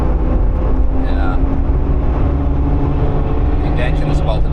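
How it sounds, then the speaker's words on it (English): A Corvette C6 Z06 engine running rough while driving, a steady loud low rumble and drone heard from inside the car, continuous throughout with faint background voices underneath. "I think the engine is about to die."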